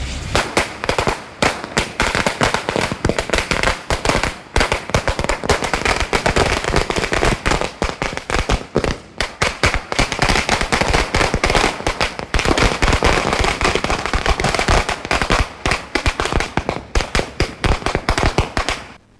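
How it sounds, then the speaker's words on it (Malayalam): Firecrackers burst nonstop at a street celebration by political party workers, a dense, loud, rapid crackle of sharp pops running continuously like machine-gun fire for the whole stretch. "പടക്കം പൊട്ടിച്ച് ആഘോഷിക്കുകയും ചെയ്തു."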